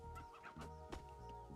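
Chickens cluck softly in a strategy video game match, several brief clucks over a faint steady hum of game audio.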